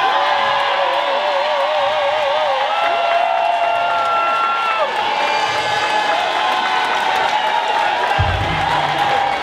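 A concert crowd at La Cigale cheers and applauds, a dense steady roar of clapping and whoops with music tones ringing over it, loud and close throughout.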